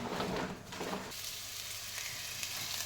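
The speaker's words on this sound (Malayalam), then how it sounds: "ഉലുവ നമുക്കിട്ടിട്ട് പൊട്ടിക്കാം." Fenugreek seeds crackle and sizzle in hot oil, a dense close-up fizz that shifts abruptly a second in and then settles into a steady hiss with no talking.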